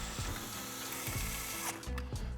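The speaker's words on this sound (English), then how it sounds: "we're gonna just go ahead and screw these in real quick" Faint quick clicking from a ratcheting screwdriver or small driver as CPU cooler screws are tightened, a few evenly spaced ticks over low background noise.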